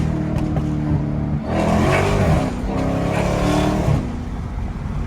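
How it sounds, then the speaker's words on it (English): A Dodge Hellcat downshifts and then pulls hard, a loud close engine roar that climbs in pitch with a brief drop between gears and whining over the exhaust, heard from inside the car with no talk. "Let me give y'all boys a little downshift before we fire his ass up."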